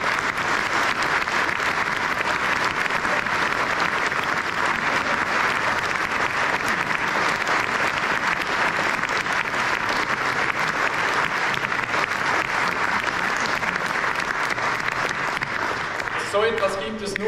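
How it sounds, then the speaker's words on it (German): Loud, sustained applause from an audience at a Swiss public event with Federal Councillor Guy Parmelin, dense clapping filling the room at a constant level from start to finish, with a brief shift in texture near the end. "das ist ein großer Applaus"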